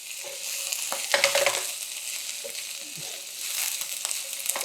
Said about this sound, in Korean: 대파가 노릇노릇해질 때까지만 볶아주면 됩니다.